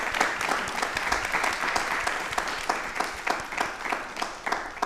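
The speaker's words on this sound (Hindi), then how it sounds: "तालियां प्लीज एक बार जोरदार हो जाए सर के लिए" A studio audience at a televised talk show breaks into loud, sustained applause, with many overlapping claps and sharp individual hand strikes standing out throughout.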